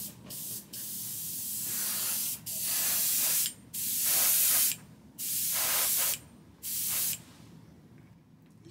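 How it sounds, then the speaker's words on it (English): Short bursts from an airbrush spraying enamel paint onto an unprepared photo-etched metal part for a scale model, about six steady hissing sprays, each a second or two long, separated by brief pauses, close and clear with no talking. "Let's see what happens when I airbrush that."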